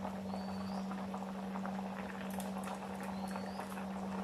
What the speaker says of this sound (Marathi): उकळी आलेली आहे